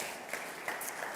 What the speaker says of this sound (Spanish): Dete un aplauso